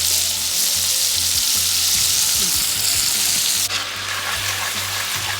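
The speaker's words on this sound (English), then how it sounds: "Nice brown, frying sweetly." Steady, loud sizzling of chicken frying in hot oil, a dense continuous crackle with faint low clatter underneath.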